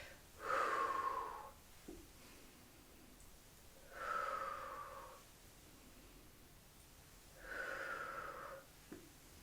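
Audible breathing during a pelvic floor workout: three long, slow, breathy exhales spaced a few seconds apart, close and soft, with quiet pauses between them and no talking.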